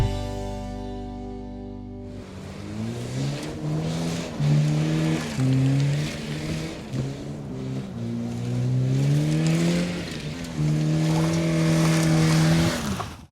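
A worn 2007 Chevy Cobalt with a 5-speed manual and a slightly slipping clutch drives along, its engine drone rising and falling in pitch as it pulls through the gears, steady and close with no talking.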